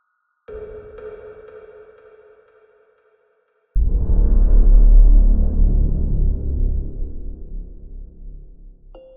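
Sonified raw electromagnetic radiation data recorded by the Cassini spacecraft at Saturn's north pole: a steady humming tone fades out, then after a pause a loud, dense roar bursts in and slowly thins over several seconds.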